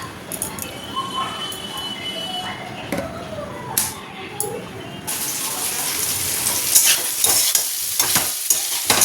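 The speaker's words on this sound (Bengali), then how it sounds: "আজ রাতের জন্য এই যে পটল আর আলু মশলা দিয়ে ভাজছি" Pointed gourd and potatoes fry with spices, lemon and green chilli in a pan, with close stirring scrapes and a steady sizzle that grows louder partway through, and a voice speaks at times.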